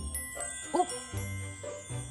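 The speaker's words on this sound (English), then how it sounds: "That was the sound of the magic story drawer." Magic story drawer chime on a children's story show, a short soft tinkling sequence of bright tones, faint and alone.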